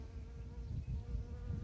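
Bees buzz softly and steadily at close range while working stork's bill flowers, a faint continuous hum with no voices.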